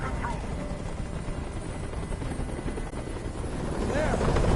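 In the video game Detroit: Become Human, a helicopter hovers overhead with a loud, continuous chopping roar of rotor blades that swells slightly toward the end, and a voice speaks over it.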